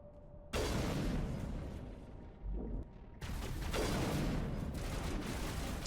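Sustained weapon fire in the video game Mass Effect Legendary Edition, a dense crackling roar of shots that starts abruptly, drops briefly, then resumes loud and continuous nearby.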